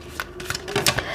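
Lenormand tarot cards shuffled by hand in a short burst of quick papery riffles and flicks, close and fairly soft.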